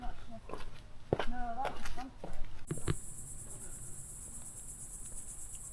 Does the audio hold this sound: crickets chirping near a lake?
yes